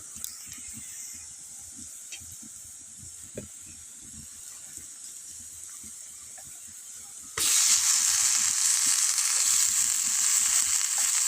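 Grated bottle gourd with turmeric and salt sizzles in a hot pan; a low frying hiss runs for several seconds, then jumps abruptly into a loud, bright, sustained sizzle as more gourd goes in.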